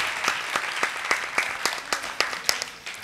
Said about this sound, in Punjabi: ਭਾਈ ਸ਼ਬੀਰ ਵਾਸਤੇ ਭਰਪੂਰ ਤਾਲੀਆਂ ਹੋ ਜਾਣਗੀਆਂ।